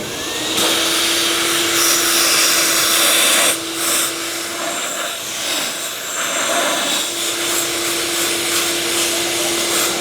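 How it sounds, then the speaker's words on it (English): A walnut shell blaster on a Nissan Titan 5.0L Cummins engine rebuild, injecting crushed walnut shell and vacuuming it back out, makes a loud, steady suction roar with a constant hum that dips briefly midway before resuming. "We're injecting the walnut here and vacuuming it out there."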